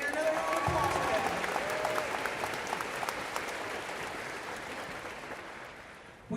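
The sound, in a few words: audience applause at arena luau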